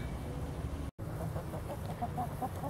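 Plymouth Rock chickens in a backyard flock cluck repeatedly, close by, in short irregular bursts over a steady outdoor background.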